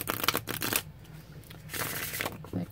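Santa Muerte limited edition tarot cards being shuffled face up, a run of quick riffling and sliding bursts with brief pauses, close and fairly quiet, with no voice.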